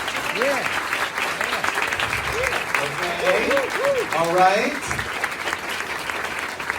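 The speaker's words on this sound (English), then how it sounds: "Let's give them a round of applause." An audience at a community meeting on homelessness applauds, steady crowd clapping under someone speaking and a few cheers over it.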